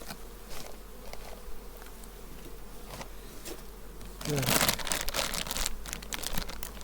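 A dense, steady drone of many honeybees buzzing close by at a hive, with a louder surge of buzzing and crinkling partway through.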